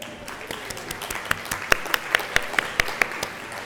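An audience at a statewide substance use disorder conference claps, a quick run of crisp, evenly spaced claps that rise out of a softer background patter of applause, without any speech.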